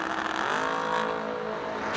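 A race car at a drag race roars with a loud, sustained engine note whose pitch sweeps and holds steady across the run, with no talk over it.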